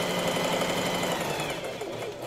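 A sewing machine runs steadily for a couple of seconds, closing a seam on a blouse with a continuous rapid mechanical whir, fairly close and alone.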